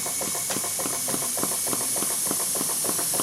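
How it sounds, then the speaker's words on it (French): Boulton and Watt steam engine running at normal speed, its exhaust giving steady rhythmic hissing puffs of steam, roughly three per second, over a continuous broadband hiss, close and loud. "la vapeur va descendre, va sortir par l'échappement ici et rentrer dans le condenseur"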